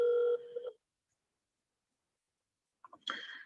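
A telephone ringing on an outgoing call during a live call-in show: one short electronic ring, then a long silence before faint clicks and a second ring burst at the end.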